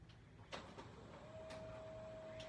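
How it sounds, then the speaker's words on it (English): A home printer comes to life with faint mechanical clicks and whirring, then settles into a thin, steady electronic tone over a quiet hum. "Oh, my printer is coming to life."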